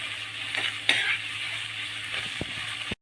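Green chillies and curry leaves are stirred in a sizzling pan for a Kerala-style fish curry with ground coconut: a close, continuous frying hiss broken by a few scraping stirs, then an abrupt cut to silence.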